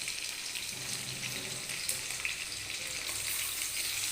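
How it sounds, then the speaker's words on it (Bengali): Squeezed soybean chunks fry in a wok on a low-to-medium gas flame, giving a steady soft sizzle with faint crackles throughout. "জল সমেত কিন্তু একদমই সোয়াবিন দেবেন না, তাতে কড়াইয়ের গায়ে লেগে যায়।"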